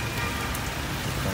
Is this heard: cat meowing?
no